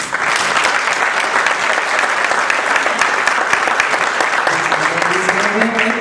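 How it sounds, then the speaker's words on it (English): Audience applause for political candidates at a Southland economic development forum, sustained dense clapping filling the room for the full stretch, steady and loud. "Let's give all the candidates a round of applause."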